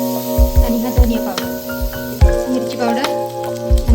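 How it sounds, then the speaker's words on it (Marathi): Chopped onion and chilli with mustard seeds and cumin sautéing in two spoons of oil, a loud close sizzle broken by sharp spatula clinks and stirring, with faint background noise. "मोहरी जिरा बारीक चिरलेला कांदा आणि ही मिरची त्याला परतून घेऊया"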